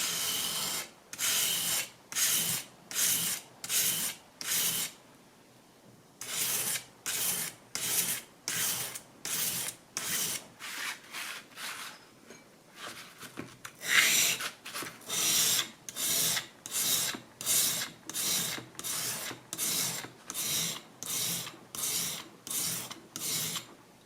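A knife is sharpened on sandpaper with steady, rhythmic rasping strokes, close and clear. There is a short pause near the start and a looser patch midway before the even back-and-forth returns. No one speaks.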